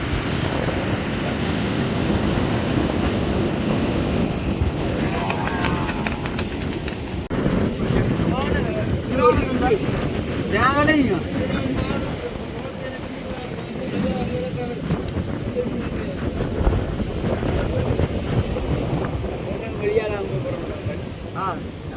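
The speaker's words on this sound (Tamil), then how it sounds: "அடுத்த போட்டு வருது பாருங்க." Fishing boat approaching across rough sea off Jaffna, heavy wind buffeting the microphone over a low engine drone and crashing waves, steady and loud, with someone talking throughout.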